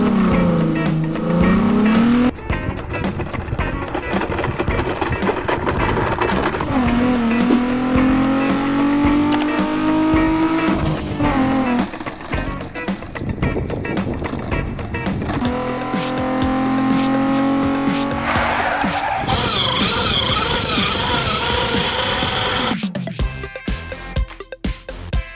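Cartoon cars race on a beach in a kids' animated show, with engines rising and falling in pitch as they speed past and tires squeal, over continuous background music.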